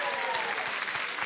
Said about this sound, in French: soyez les bienvenus, on vous applaudit